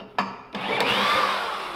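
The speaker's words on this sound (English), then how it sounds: "Get my starting drill." A power drill whirs up suddenly after a couple of clicks and keeps spinning loudly, close by, with a rising mechanical whine, used to crank the engine of a walk-behind roller.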